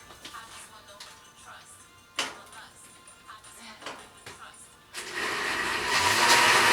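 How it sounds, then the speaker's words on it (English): A blender runs on cantaloupe juice sweetened with sugar. After quieter clatter and bumps, it roars in loudly near the end and keeps building. "And blend away. Blend, blend, blend."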